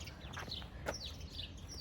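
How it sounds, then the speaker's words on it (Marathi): Small birds chirp in short, high tweets in Europe, a few scattered calls over a quiet background hum, fairly faint. "इथं अक्षरशः पक्ष्यांचे पण आवाज येतात."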